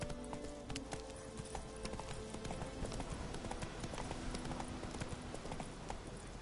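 Hooves of Roach, the horse in The Witcher 3 on PS4, clip-clop steadily at a brisk gait over continuous game ambience and music, with faint vocal sounds now and then.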